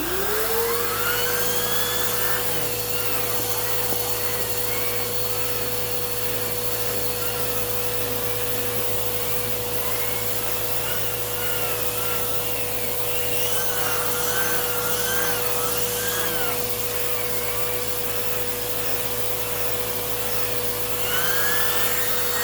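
A Bissell PowerGroom Multi-Cyclonic upright vacuum cleaner runs with its turbo brush, a loud, steady motor whine with a whirring, rubbing brush roll holding for over twenty seconds with slight pitch wavers, close up.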